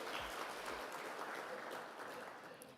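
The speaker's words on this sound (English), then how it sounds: "Let's give him a round of applause once again." Quiet, distant round of applause from an audience at a corporate sustainability report launch, steady clapping that fades slightly toward the end.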